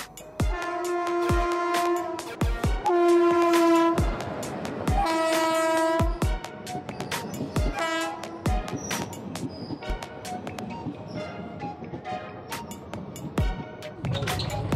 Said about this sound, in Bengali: তো আমি ট্রেনে উঠে পড়েছি,